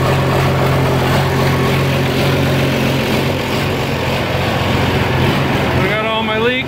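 An Oliver 1855 tractor diesel idles with a faulty injection pump, its steady loud engine drone rising and falling slightly as it hunts.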